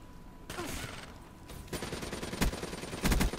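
Rapid gunfire in the Xbox One video game Call of Duty Black Ops 3, dense and noisy bursts running almost continuously, loudest in several heavy blasts toward the end.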